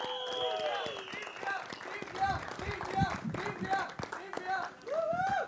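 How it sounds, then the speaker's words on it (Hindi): Audience clapping and cheering at a movie trailer launch event, a burst of applause mixed with crowd noise while a voice speaks over it. "जोरदार तालियां हो जाएं."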